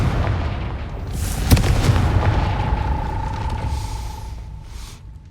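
A Confringo spell blast in Hogwarts Legacy lands as one sharp, loud boom, followed by a rumbling tail that slowly fades beneath a faint, sustained ringing tone.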